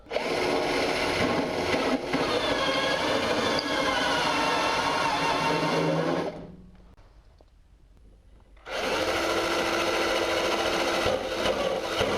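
A cutter drills out spot welds on a Foxbody Mustang during an upper torque box install, a loud steady high-pitched whine that runs for about six seconds, drops away to near quiet for two, then resumes at full volume.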